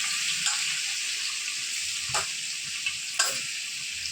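Onion chutney frying in a pan in a home kitchen, being stirred as it cooks: a steady close sizzle with a few soft scraping strokes of the spoon and no talking.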